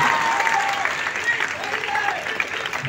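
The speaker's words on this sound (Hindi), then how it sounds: "आग्रह करूंगा तालियां जोरदार।" Audience applause at an Oraon cultural program and get-together ceremony in a hall, steady broadband clapping across the whole stretch with faint talk mixed in.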